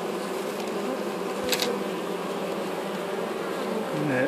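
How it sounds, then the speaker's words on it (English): Honey bees drone steadily at a hive where a new queen is being introduced, a close, loud, even buzz with a brief sharp click partway through and a rising whine at the end. "one bee want to feed the queen bee"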